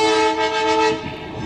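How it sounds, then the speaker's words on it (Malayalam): A Chennai Egmore special train on the Kollam–Sengottai line near Thenmala crosses the Kannara bridge. A loud, sustained horn sounds close by, then fades into rolling rail noise, with no talking. "ട്രെയിൻ വരുന്നുണ്ട് കേട്ടോ."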